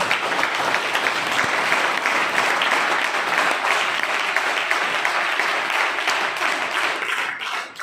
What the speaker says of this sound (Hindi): एक बार हाथ ऊपर करके ताली बजाइए